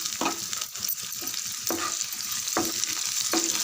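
Onion, green chilies and curry leaves sauté in a pan for semiya upma with a continuous loud sizzle. A spatula scrapes the pan every second or so, alone with no voices.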